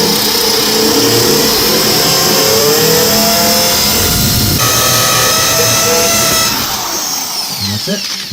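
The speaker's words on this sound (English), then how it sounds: "let's go and drill a hole from the beginning, and we're going to use the same bit" A diamond drill bit bores through tile with a loud, continuous whining drone whose pitch shifts as the bit works through, then eases off near the end, and a voice is heard under it.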